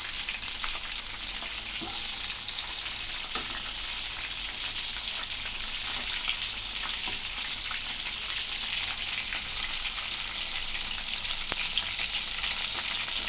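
Chicken pakoda pieces deep-fry in hot oil, making a dense, continuous crackling sizzle with scattered pops that stays steady and fairly loud throughout, with no talking.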